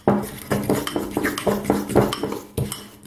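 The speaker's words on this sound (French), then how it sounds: "il faut d'abord écraser, je ne sais pas si vous voyez bien, les carrés frais" A utensil mashes Carré Frais cream cheese in a bowl, producing a steady series of close, rhythmic knocks and scrapes against the dish, about two per second.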